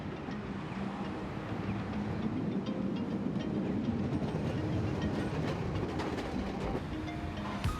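A tram runs along its rails in Kumamoto, Japan, with a continuous rolling rumble and scattered metallic clicks and squeals, steady and fairly close throughout.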